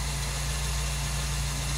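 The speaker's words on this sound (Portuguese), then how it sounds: "enquanto o motor esquenta, vamos colocar os pneus aqui e vamos tirar o carro daqui" A Ford Del Rey's engine idles steadily while warming up after sitting for a year, a constant low hum with a throbbing pulse and no talk over it.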